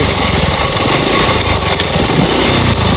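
A car engine runs loud and close with a harsh, buzzing roar and a rough, rapid rattling knock throughout, steady and unbroken with no voices.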